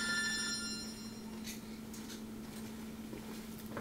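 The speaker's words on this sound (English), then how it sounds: "My phone's ringing." A phone ringing indoors during a home talk recording: a short, tonal ringtone burst for about a second before cutting off, fairly quiet, over a steady low electrical hum with faint scattered rustles and no speech.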